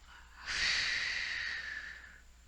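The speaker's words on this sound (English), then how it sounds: "Listen to your breath." A single long, slow exhale, breathy and close, rising quickly then fading out over about two seconds.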